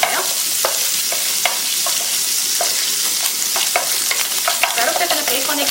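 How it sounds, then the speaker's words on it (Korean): Bacon sizzles in melted butter in a pan for a Spanish omelette, a constant bright crackle close by, with scattered clicks and scrapes as it is stirred. "베이컨부터 먼저 넣어주세요. 그래서 베이컨의 맛이 조금 나오고 베이컨의 기름이 조금 빠질 수 있게 충분히 한번 볶아주세요."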